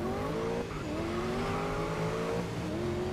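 Race cars in GRID Legends drive in a pack on a narrow road, engines droning steadily with pitch climbing through gear shifts, loud and continuous.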